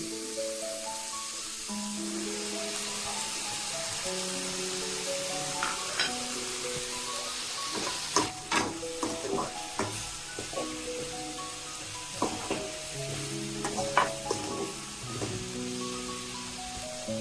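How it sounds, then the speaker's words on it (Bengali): Spice paste with ground spices, turmeric and salt sautés and is stirred in a pan for Bengali crab and drumstick curry. There is steady sizzling with scraping stir strokes under background music. "মশলাটা কষিয়ে নিচ্ছি।"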